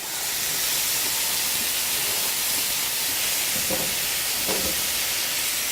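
Cornmeal-encrusted haddock frying in an improvised fryer, giving a loud, steady, close hiss of bubbling oil throughout, with a couple of faint knocks partway through.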